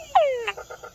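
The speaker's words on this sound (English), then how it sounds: "the call of a male tungura frog is one of the most recognizable" A male tungara frog calls up close: one falling whine followed by a few short, evenly spaced chucks, loud and clear with no voices.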